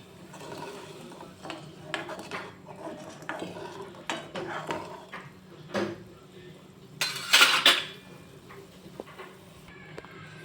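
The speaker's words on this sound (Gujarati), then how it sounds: "હવે આપણે બધું મિક્સ કરી લઈશું" Kathiyawadi-style sev onion curry being stirred in a pot, with repeated scraping and clinking of a spoon against the metal, irregular strokes close by, and a louder scrape near the end.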